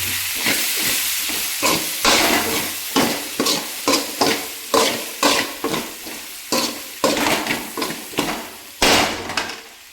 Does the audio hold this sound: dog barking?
no